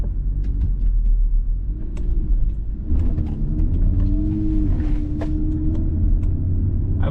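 Audi RS3 with the 2.5 TFSI engine, showing a P0016 correlation fault, driving: a steady, loud engine rumble with a rising drone as it pulls, close and continuous with no talk.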